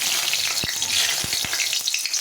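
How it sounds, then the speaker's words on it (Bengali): Fish fry in hot oil in a heated wok, giving a continuous loud sizzle with a few sharp spits and crackles, close by and with no talk. "তো এখন আমি মাছগুলো ভেজে নেব।"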